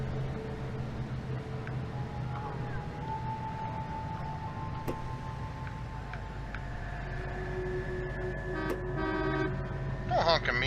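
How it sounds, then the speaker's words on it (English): A car horn toots a few times over steady engine and road noise in the video game L.A. Noire, followed by brief electronic beeps, with no speech. "Don't honk at me."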